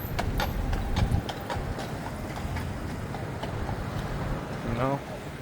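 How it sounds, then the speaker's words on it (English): Horses clip-clopping on a downtown New York City street, hoof beats in a steady rhythm amid traffic noise, with people talking nearby. "Guys, look at the horses."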